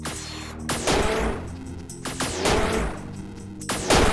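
Enemy guns fire in the sci-fi video game Orion's Throne: repeated loud bursts of gunfire with explosive crashes, about four heavy volleys in quick succession, alone without speech.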